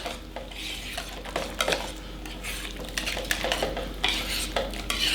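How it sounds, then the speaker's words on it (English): Corn pudding ingredients, including lightly beaten eggs, being stirred together in one bowl, with a spoon clinking and scraping against the sides in steady, close strokes and no talking. "we're going to mix this up."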